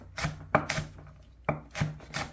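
A knife cuts green chili peppers on the bias on a board, six or seven crisp, close chops in an uneven rhythm with no voices.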